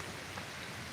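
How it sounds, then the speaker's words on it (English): Steady rain falling by a river, a dense, even hiss of drops on surfaces with no pauses, close and continuous. "Still raining"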